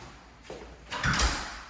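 A door in a small house pushed shut with a soft, muffled thud, rising from a faint slide into a brief low knock, then fading into room noise.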